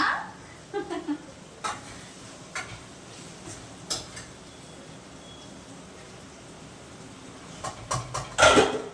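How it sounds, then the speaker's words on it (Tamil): Tomato and onion sautéing in a kadai for mutton pepper fry, with intermittent spoon scrapes and stirring clinks over a soft, steady sizzle, heard close and fairly quiet with no talk. "பெப்பர் ஃப்ரைக்கு வந்து ஒரு பக்கமா வந்து தக்காளி வெங்காயம் எல்லாம் வந்து கடாயில வதக்கிட்டு இருக்கோம்"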